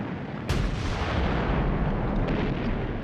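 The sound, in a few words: British artillery guns firing, Somme 1916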